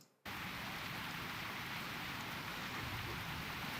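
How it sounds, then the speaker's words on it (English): Heavy rainstorm in the World of Warcraft video game, a dense, steady hiss of downpour filling the scene at constant loudness from start to finish, with no voices. "This sounds like a rainstorm."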